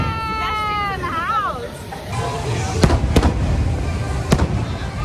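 Fireworks bursting over Magic Kingdom at night, heard from the outdoor Dumbo ride: several sharp, loud crackling booms in the second half over a steady crowd hubbub, following a sustained musical show tone at the start.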